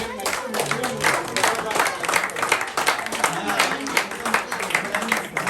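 Audience applause at an annual day awards ceremony, dense overlapping hand claps sustained throughout at steady loudness, with voices mixed in under the clapping.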